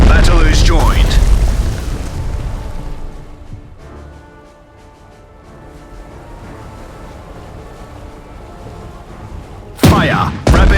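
Naval gunfire and explosions in a strategy game set around Norway: heavy booming blasts open loudly, ease into a rumbling lull, then another sharp burst of explosions near the end.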